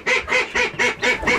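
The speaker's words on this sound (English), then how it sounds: "That's the ducks. The ducks say they need something." Ducks quack loudly and close by in a quick series of about five nasal, honking calls with no pauses between them.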